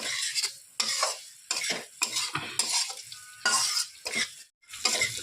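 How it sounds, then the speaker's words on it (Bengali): A spoon scrapes and stirs ghee-fried Gobindobhog rice with spices in a pan, in a steady run of close, rhythmic metal scrapes over a soft sizzle, with no voices. "গোবিন্দভোগ চালটা একটু নাড়িয়ে নিচ্ছি মশলার সঙ্গে"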